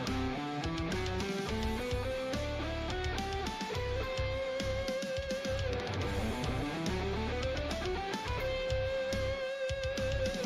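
Fast electric guitar shred lines played over a Lydian backing track, with quick runs climbing and descending above a steady band groove, loud and continuous throughout.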